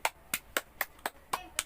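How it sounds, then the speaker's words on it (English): A class gives a round of applause as a short burst of seven sharp, evenly spaced hand claps, close and fairly quiet with nothing else behind them. "Let's have a round of applause for every one of you"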